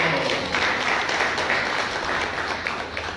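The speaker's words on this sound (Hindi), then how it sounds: "अरे ताली बजाओ" A church congregation breaks into applause during a Hindi sermon, a brief, dense wash of clapping that stays steady and fairly loud for a few seconds.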